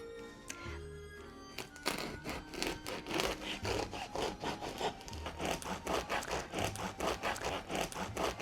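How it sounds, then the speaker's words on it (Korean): A knife saws through bread for a French lobster rosé tomato soup course, giving a steady rhythm of close, rasping strokes after a few light thunks, with no talk. "이제 빵을 잘라 놓읍시다."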